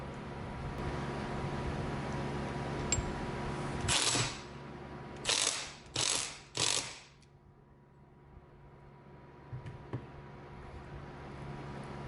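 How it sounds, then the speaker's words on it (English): An impact wrench tightening the nut on a powder-coated alternator pulley, heard as four loud bursts of rattling hammering, one followed by three rapid pulls in quick succession, over steady shop hum. "We'll tighten it up with the impact."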